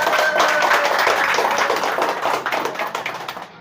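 People clap for Pak Nardi at a community gathering of Moto Pioner Bogor Timur, a loud close burst of many hands that thins into looser scattered claps.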